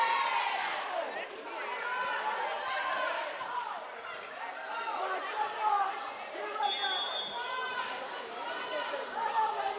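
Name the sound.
volleyball game crowd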